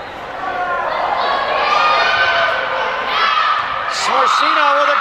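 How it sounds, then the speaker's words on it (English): Crowd cheering and shouting at a high school volleyball senior night in a gym, a sustained roar of voices with squeaks and a commentator talking over it. "the crowd is into it tonight on senior night here at the Bulldog Dog Pound"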